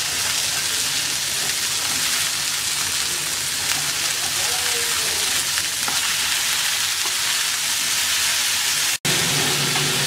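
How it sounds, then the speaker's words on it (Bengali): Eggplant and tomato fry in a pan, giving a loud, steady sizzle with faint stirring throughout, broken by one brief dropout near the end. "টমেটো আর বেগুনগুলোকে ভালো করে ভেজে নরম করে নেব।"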